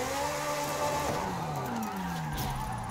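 A Ferrari sliding in Forza Horizon 5, its engine note sweeping and wavering steadily downward while the tires hiss and squeal through the drift, loud and continuous with no talk.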